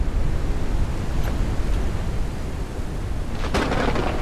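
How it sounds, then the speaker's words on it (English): Storm weather in the game Forever Skies gives a dense, continuous roaring rumble like heavy wind and thunder, with a brief sharp crackle near the end. "They're not joking, that's really a storm."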